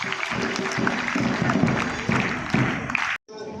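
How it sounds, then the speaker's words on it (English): Applause from a crowd at a sports event gathering, a dense continuous clatter of clapping with some murmur beneath, cutting off abruptly near the end. "So one more round of applause for all of you."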